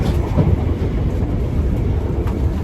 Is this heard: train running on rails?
yes